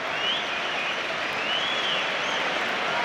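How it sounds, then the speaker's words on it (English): Football stadium crowd at Tottenham Hotspur versus Chelsea applauds a substituted player, a dense, steady wash of distant clapping and crowd noise filling the whole moment. "There's applause for Harry Winks."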